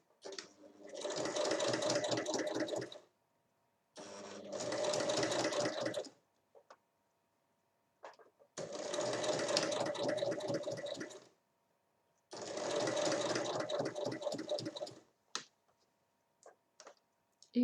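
A sewing machine stitches fabric for a visor in four bursts of rapid, rhythmic mechanical chatter, each lasting a few seconds, separated by pauses with small clicks as the cloth is adjusted.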